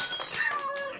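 A single drawn-out cat meow, clear and close, its pitch sliding downward over about a second, with no talking around it.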